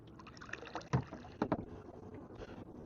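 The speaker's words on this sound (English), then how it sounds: "I hear Sesh Man on the Sesh boat from the first night." Distant boat on Loch Lomond, a faint low rumble with soft swells and a couple of louder bumps over wind noise outdoors.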